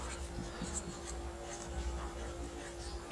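A pen scratches across a paper page in soft, close, irregular strokes, quiet and continuous, as an amount is written into an accounting sheet.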